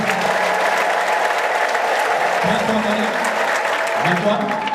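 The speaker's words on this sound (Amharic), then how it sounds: "እሺ ለጌታ እልልታ ጭብጨባ" Loud, steady clapping from a church congregation, mixed with rising ululation and raised voices, continues unbroken for several seconds as a dense crowd sound close around the listener.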